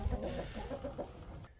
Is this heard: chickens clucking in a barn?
yes